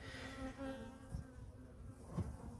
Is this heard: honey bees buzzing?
yes